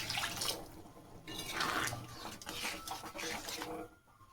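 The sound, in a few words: pouring water into a pan for ghugni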